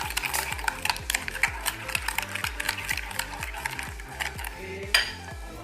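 A whisk or spoon clinks rhythmically against a bowl while eggs, sugar and lemon zest are stirred, a quick steady series of close metallic taps.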